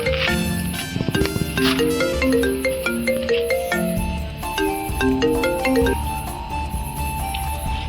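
A mobile phone ringtone plays a bright repeating electronic melody for several seconds, fairly loud and close, in a Gujarati comedy scene with little else around it.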